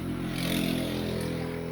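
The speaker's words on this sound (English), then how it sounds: "motorcycle 4-wheeler or something went by" A motorcycle or four-wheeler passes outside, a steady low engine drone that swells slightly and then fades over a couple of seconds, heard from a distance with no voices.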